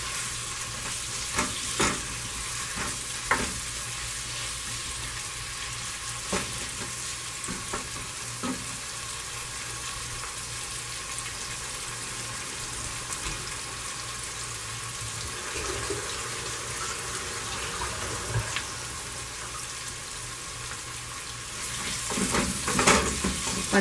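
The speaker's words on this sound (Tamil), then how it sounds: "இதில் பச்சை மிளகாய் நல்லா வதங்கணும்." Green chillies fry in hot oil for mutton biryani, giving a steady close sizzle throughout with scattered crackles and scraping stirs, swelling louder near the end.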